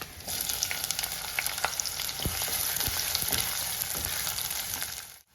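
Chopped onion and green chili fry in oil for a Kerala-style okra dish, a steady close sizzle with scattered crackles and a few low clunks from the pan, no voices, cutting off abruptly at the end.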